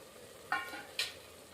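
Boiled chicken tipped into a pot of curry for biryani, giving two brief sizzling splashes about half a second apart over a quiet background hiss, close and fairly soft.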